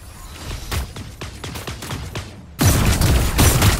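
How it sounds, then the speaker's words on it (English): Rapid bursts of gunfire crackle in quick succession in the mobile game Super Mecha Champions, then a louder, denser barrage of shots and booms takes over. "I hear gunfire. Keep your eyes sharp."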